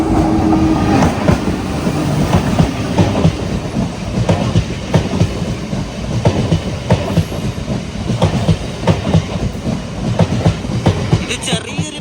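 A small eight-coach MEMU passenger train running on an Indian rail line, loud and close, with a continuous rumbling roar and a regular clickety-clack of wheels over rail joints throughout.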